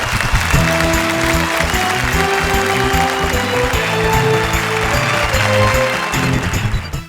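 Audience applause at a Hindi poetry show, a dense wash of clapping heard loud and continuous over a playing musical tune.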